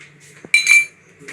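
A spoon clinks against a dish while a spoonful of peanut butter is scooped in, giving a few short, light metallic taps with brief silences between them.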